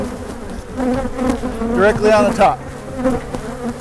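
Honey bees buzz close by while a beekeeper combines a weak and a strong hive using the newspaper method, the droning hum rising and falling beneath a man's speech.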